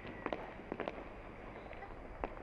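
Firecrackers and fireworks going off late at night around midnight in Ferozepur, Punjab, heard as several sharp, scattered bangs and crackles at moderate distance over a low background hum.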